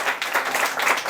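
A short burst of applause from a church audience, many hands clapping together in a soft, diffuse patter that fills the brief moment.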